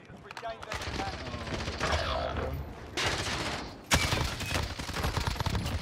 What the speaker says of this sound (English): Hey, are you shooting at me?